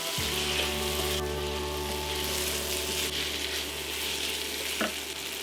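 Rice is poured into tomatoes frying in a pot, setting off a steady loud sizzle that holds evenly throughout, close by with no talking.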